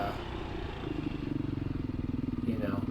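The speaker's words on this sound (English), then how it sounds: "here I tried to kind of open up the throttle a little bit" A 2020 Beta 500 RR-S dirt bike engine rumbles steadily close by, its pulsing beat growing louder and quicker as the throttle opens partway through, with no voices over it.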